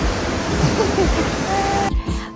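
Steady broadband roar of rushing water at the Grojogan Sewu waterfall, loud and continuous, with a faint tonal whistle partway through and a sudden drop near the end.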